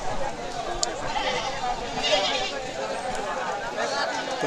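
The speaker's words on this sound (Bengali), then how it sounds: "দেশি জাতের ছাগল এটা সকাল থেকে দুপুর পর্যন্ত কেনাবেচা চলে" Native-breed goats bleat at a busy livestock market, a few short cries rising over the steady murmur of a crowd and nearby talk.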